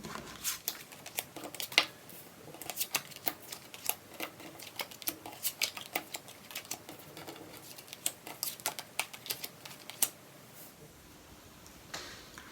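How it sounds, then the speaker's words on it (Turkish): Tarot cards are laid out and turned over on a table, giving a quiet, irregular run of crisp, papery taps and flicks close by, with no voices. "Şimdi hep beraber kartlarımızı açalım."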